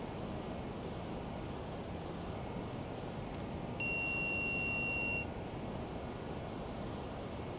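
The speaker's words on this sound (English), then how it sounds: "I don't know what that beep noise was." A steady electronic cockpit tone sounds in a Learjet in Microsoft Flight Simulator, a single sustained beep lasting about a second and a half over a constant loud engine and airflow hum.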